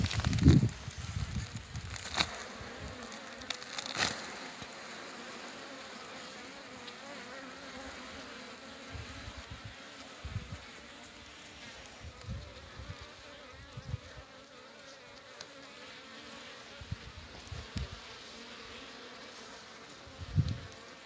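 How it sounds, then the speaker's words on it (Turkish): A swarm of Caucasian hybrid honeybees buzzing nearby in a steady, droning hum, with occasional soft knocks and rustles close to the microphone. "Arı da gerçekten güzel bir arı arkadaşlar. Kafkas melezine benziyor."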